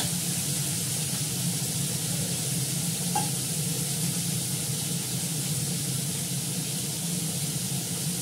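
Fish heads fry with mustard in a pan, a constant loud sizzle and hiss that runs unbroken and steady from start to end, with no voices over it.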